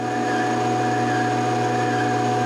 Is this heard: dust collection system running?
yes